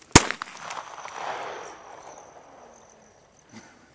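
A single sharp firearm shot fired at a thrown playing card cracks loudly near the start, followed by a long decaying echo and a faint clatter later.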